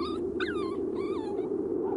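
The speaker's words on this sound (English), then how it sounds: "The irrepressible dogs become more and more like pets to many of the men." Sled dogs and young pups aboard Shackleton's polar expedition give repeated high, wavering whines and whimpers over a steady low droning background, close and continuous.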